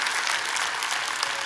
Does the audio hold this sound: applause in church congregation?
yes